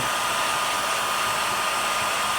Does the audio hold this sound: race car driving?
no